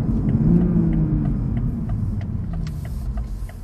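A 2021 Toyota GR Supra engine revs hard up close, a loud low rumble rising in pitch as it accelerates.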